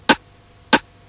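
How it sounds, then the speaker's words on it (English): Two crisp metronome clicks, evenly spaced, sharp and dry against a quiet background. "let's play this slowly with the click."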